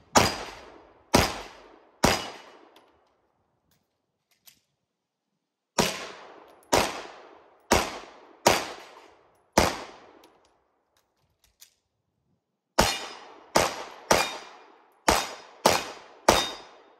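Gunfire at an outdoor shooting range: loud, sharp single shots close by, fired in spaced groups of three to five with pauses between strings, each crack decaying quickly.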